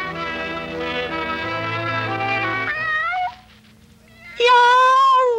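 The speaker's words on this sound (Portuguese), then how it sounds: "Eu sou aquele faminto gatinho. Estou morrendo de fome. Iau! Iau!" A cartoon cat from Woody Woodpecker meows in drawn-out, wailing cries, loud and close, with a long sustained yowl, a short pause, then a rising, falling final meow.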